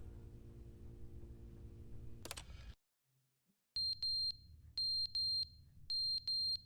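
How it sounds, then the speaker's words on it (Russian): A fire ventilation alarm in the video game The Stanley Parable: Ultra Deluxe sounds after a noisy stretch and a brief silence. Shrill electronic beeps repeat in quick clusters of three, loud and close. "пожарная вентиляция пищит"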